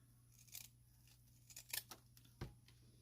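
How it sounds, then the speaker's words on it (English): Pinking shears snip across folded fabric in several quiet, crisp cuts spread unevenly over a few seconds, close and alone with no talking. "You can use regular pair of scissors, but I have pinking shears. You don't need to have this, but I like the design."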